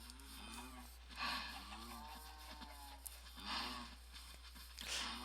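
Cows on a Minecraft cow farm moo repeatedly, giving several drawn-out, pitch-sliding calls at moderate volume that overlap with a low background hum. No one talks over the calls.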